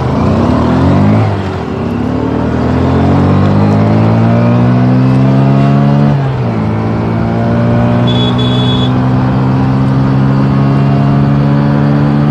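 A Hero Super Splendor SX motorcycle and a 2019 Honda Grazia scooter drag racing on an empty road, their engines revving and climbing loudly through gear changes up close, with no talk.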